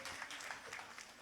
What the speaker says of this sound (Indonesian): Tepuk tangan untuk panjenengan yang masih setia malam hari ini.